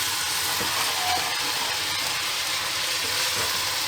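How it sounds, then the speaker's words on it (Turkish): Purslane and squash mixture tipped into a hot pan, a steady broad sizzle and hiss with faint stirring, close and even throughout. "semizotu kabak karışımım vardı. Onları da güzelce ekliyorum."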